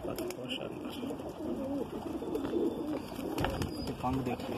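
Repeated soft coos from a Madrasi pigeon carry on throughout, near and steady, with a person's voice faintly audible underneath at times.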